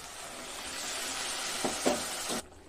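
Water is poured into a banana flower and potato mixture cooking in a hot pan, raising a steady hiss of sizzling with a few sharp spatters before it cuts off abruptly.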